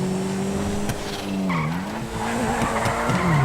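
A car drifting in GTA 5 Online, tires squealing in long wavering streaks over a steady engine drone, loud and continuous throughout with no talk.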